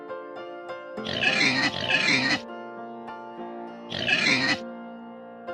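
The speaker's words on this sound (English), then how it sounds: "pig" Loud pig grunts in two bursts, the first lasting about a second and a half and the second shorter, over a steady low background hum.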